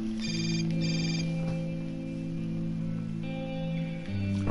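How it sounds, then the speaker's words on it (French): A telephone rings in the video game Hotline Miami 2, a repeating electronic trill in two short bursts and then again later, sounding over sustained synth tones and a low hum, with no talking. "Téléphone."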